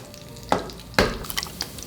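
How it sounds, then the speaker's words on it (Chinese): Beef tallow frying slowly over low heat in a pan for a Japanese sukiyaki, a soft steady sizzle broken by a few sharper crackles and stirring clatters, close by with no talking. "牛油先给它下锅煎一下，这个要小火慢煎哈"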